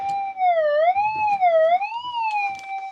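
A wavering electronic tone warbling up and down in pitch, steady and fairly loud, like a detector signal.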